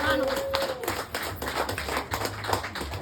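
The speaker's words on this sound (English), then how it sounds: "Let us give them a round of applause" A room of people gives a round of applause for service providers at a public event, scattered hand claps with uneven bursts, while voices carry over the clapping.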